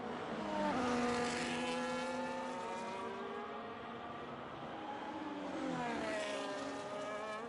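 F1 race cars roar past on a Hungary track in a racing game, high engine whines gliding up and down in pitch as they approach and pass, sustained and fairly faint overall.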